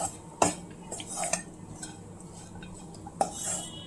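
Spoon stirring a coconut laddoo mixture in a pan, with a few sharp clinks of utensil against metal over a soft steady scraping background, fairly quiet and close.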